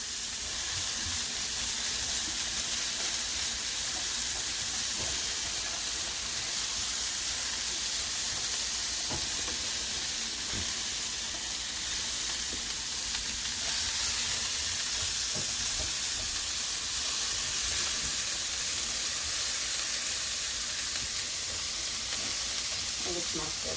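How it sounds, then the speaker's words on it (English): Vegetables saute in a hot pan with a loud, continuous hiss-like sizzle and occasional stirring scrapes, steady throughout with no talking. "I'm just going to saute this for a few minutes"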